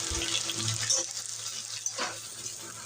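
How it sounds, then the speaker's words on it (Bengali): Soybean chunks and winter vegetables fry in a pan for vegetarian khichuri, giving a steady close sizzle with brief stirring scrapes and no talk. "সয়াবিনটা দিয়ে ভালো করে ভেজে নেব।"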